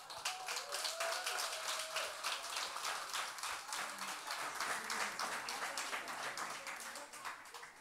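A church audience at a Sunday baptism service breaks into sustained applause, many hands clapping densely and continuously at a fairly even level for several seconds.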